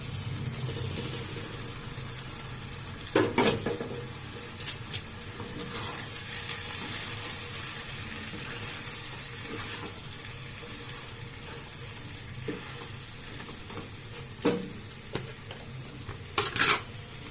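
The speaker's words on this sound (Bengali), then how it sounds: "সবজিটা সিদ্ধ হয়ে গেছে, দিয়ে দিচ্ছি পাস্তাগুলো।" Pasta is stirred into cooked vegetables in a pan for an Indian desi veg pasta, giving a low continuous sizzle with occasional scrapes and clinks of the spoon against the pan.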